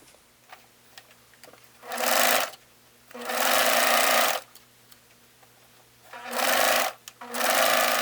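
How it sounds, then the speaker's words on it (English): A serger on a rolled hem setting runs along the curved neck edge of a pullover blouse in four loud bursts, with short quiet pauses between them. "We're going to use a serger on a rolled hem setting."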